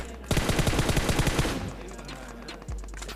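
Rapid automatic gunfire in the battle royale game PUBG Mobile, set in Pochinki, with a dense burst of roughly a dozen shots over about a second, then quieter gameplay ambience and a single later thump.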